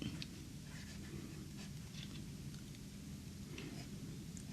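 Hero H718 fountain pen with a fine 10 karat nib writing on paper, faint soft scratchy strokes in short bursts over a quiet low background hum.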